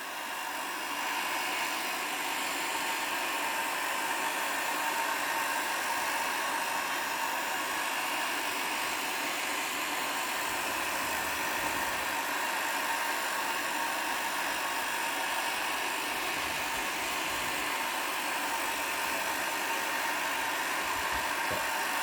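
A heat gun blows steadily while softening glue on a Sony SS-E55 speaker, a continuous airy whoosh with an even hum, fairly quiet and unbroken throughout.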